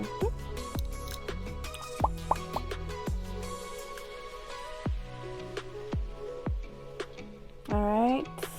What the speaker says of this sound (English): So yeah, measure out 4 ounces of honey.